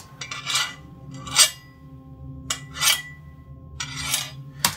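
Clean metal foley for the action game Gunkatana: several separate scraping, ringing metallic hits and slides, like blades or pans, arriving in uneven bursts with a faint sustained tone between them, no voices.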